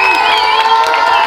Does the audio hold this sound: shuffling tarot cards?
no